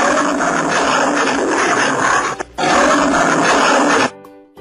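A lion gives a long, loud, rough roar, continuous for about four seconds with a brief break, close and alone before it cuts off.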